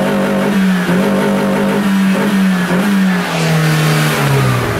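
A small 1.2 litre car engine revs steadily and loud at close range, its pitch holding and then dipping slightly toward the end, with no talking.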